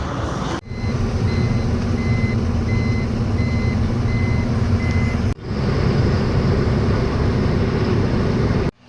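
An LPG tanker truck pulls away while its reversing alarm beeps in a steady repeating pattern over a loud, continuous engine rumble close by.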